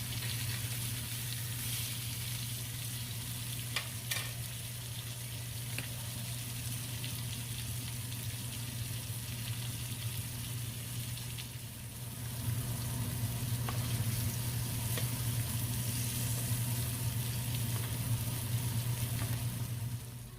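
Salmon fillets frying over medium-high heat in a pan, giving a continuous, even sizzle with a low hum underneath that grows slightly louder partway through.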